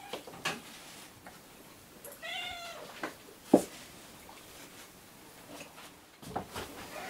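A cat meows in a quiet indoor room: one short, clear harmonic call near the middle, with a few soft knocks and clicks around it and no talking.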